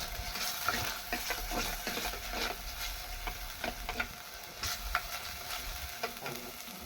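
Kulambu ingredients sauté in a pan over a wood-fired stove, with steady close sizzling and frying broken by repeated scraping stirs throughout.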